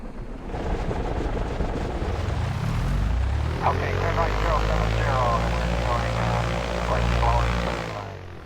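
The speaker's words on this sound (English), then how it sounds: "that was a pretty ugly startup in the 172 by myself there" A Cessna 172 engine in X-Plane Mobile cranks and catches, a starter whine giving way to a deep propeller drone that settles into a steady, loud idle, with a voice talking briefly over it.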